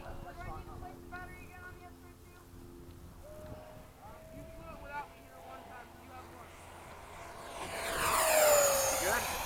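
A Freewing 80mm F-5 RC jet makes a flyby pass at an airfield at sunset, its ducted-fan whine swelling from faint to loud and rising in pitch near the end as it passes close, with people talking over it.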